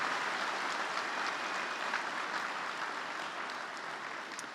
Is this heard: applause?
yes